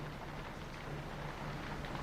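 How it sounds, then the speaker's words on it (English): Steady rain falls in a drowning town, a dense, even hiss with a low rumble underneath, faint and continuous throughout. "How long has it been raining?"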